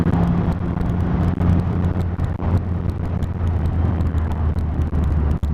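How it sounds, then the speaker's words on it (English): A 2020 Triumph Rocket 3 R motorcycle on the road gives a deep, throaty rumble beneath steady wind noise, the engine drone holding loud and continuous with brief gusty buffets. "there's that deep, throaty, rumble, burbly noise underneath the bike"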